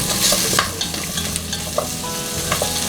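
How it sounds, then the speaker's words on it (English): Carrot planks sizzling and being stirred in hot oil in a pan for a Korean-inspired venison stir fry, a loud continuous fry with scraping stirs and crackling pops close up. "You want to hear that sizzle."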